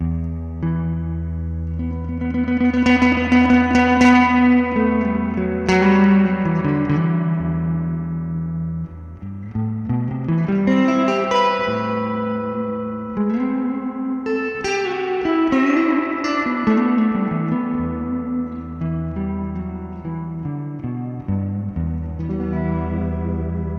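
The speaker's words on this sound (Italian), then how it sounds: "è il più bel riverbero a molla che abbia mai sentito" Electric guitar played through an amplifier with spring reverb and a single F86 valve, sustained chords and melodic lines ringing with lush reverb tails, loud and continuous with no talking.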